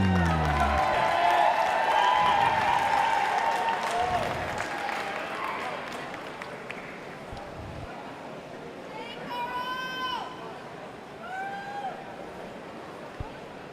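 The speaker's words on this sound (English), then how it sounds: "Another round of applause for all your finalists for the men's 50-yard freestyle." Crowd applause for the finalists of a men's 50-yard freestyle race at a district high school swim meet, loud at first then fading into murmuring hall noise, with a few whistle-like squeals near the end.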